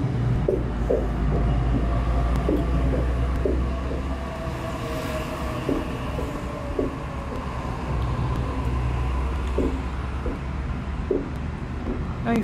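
A Waratah Series 1 passenger train pulling into a suburban station platform, a steady loud rumble with rhythmic wheel clicks over rail joints running through the whole stretch.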